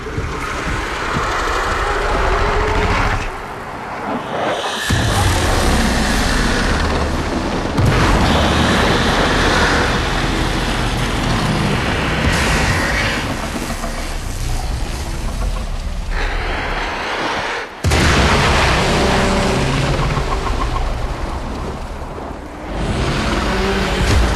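A loud explosion in the video game Warframe, part of the Heart of Deimos quest, rumbles as dense, continuous booming and roaring with debris falling, sustained almost without pause and broken only by two brief drops.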